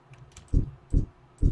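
Keyboard typing during a Tropico 5 gameplay session: three distinct, evenly spaced keypresses with a soft low thump, close and fairly quiet, with no talking.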